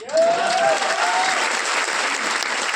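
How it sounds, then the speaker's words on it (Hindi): A seminar audience breaks into a short burst of clapping that rises quickly and holds steady, with a speaker's voice briefly heard at the start. "अरे इतनी कम ताली में तो रॉयल्टी नहीं बनोगे यार"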